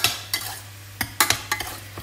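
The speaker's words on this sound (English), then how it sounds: "Get my little pot here a little stir as well." A spoon stirs Bolognese sauce in a pot, scraping and knocking against the sides in short, uneven clinks over a faint steady hum.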